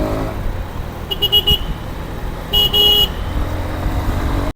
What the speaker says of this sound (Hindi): इस टाइम थोड़ा दिन का टाइम है तो ट्रैफिक ज़्यादा है, एंड दिल्ली का ट्रैफिक यू नो